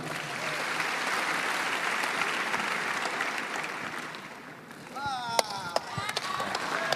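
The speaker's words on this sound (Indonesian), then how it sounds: "Tepuk tangan untuk Fadli." An audience at an Indonesian youth leadership talk applauds for a participant named Fadli, a full, even burst of clapping for several seconds that fades as voices begin talking over the last few claps.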